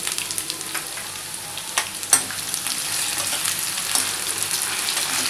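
Whole coriander, cumin and mustard seeds sizzle and crackle in hot oil for a poha dish, a steady close frying hiss with scattered sharp pops throughout, no talking.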